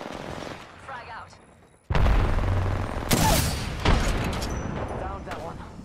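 A frag grenade goes off in a shooter video game with a sudden loud blast, followed by bursts of gunfire and further booms, while a voice calls out over the action.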